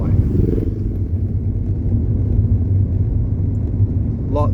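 Motorcycle riding along Jalan Janda Baik, its engine a steady low rumble throughout with wind noise, close and continuous, a brief tonal squeal near the end.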